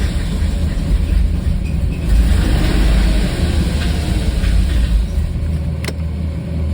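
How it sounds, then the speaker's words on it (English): A 1995 BMW 540i E34 V8 engine cranking and catching before stumbling toward dying out with a rough idle, a loud, steady, close rumble throughout with no speech. "so we got a crank, and then it started dying out. Rough idle."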